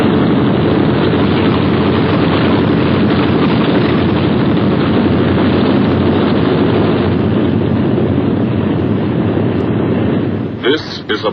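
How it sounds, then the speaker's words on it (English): Roaring piston engines of B-17 Flying Fortress bombers in 1944 wartime England, a dense, steady drone that stays loud throughout and breaks up briefly near the end. "Only the roaring engine sound of the bombers pounding through the quiet English countryside."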